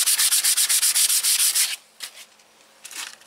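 Fine sandpaper is rubbed by hand over a trailer's painted outside in a quick run of about a dozen rapid, even strokes. The strokes then stop, leaving faint scattered scuffs in near silence.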